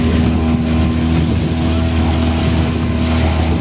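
A boat engine strains and drones loudly and steadily without a break, laboring hard close by near a white-sand beach resort, with the steady roar filling the whole scene.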